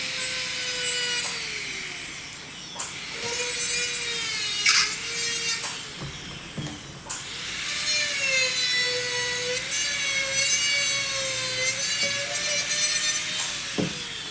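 Grinding of a dental handpiece trimming the contact of an acrylic temporary front tooth, a steady high whine that rises and falls in pitch with brief pauses, close and continuous, no talking.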